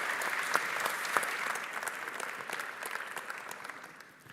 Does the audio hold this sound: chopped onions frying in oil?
no